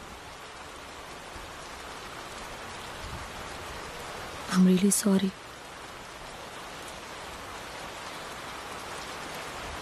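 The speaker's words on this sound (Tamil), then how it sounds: "மழை பெஞ்சு ஒஞ்ச மாதிரி இருக்குல்ல" Steady rain falls throughout as a continuous hiss, with a brief louder burst of sound in the middle and a short line of speech from a person.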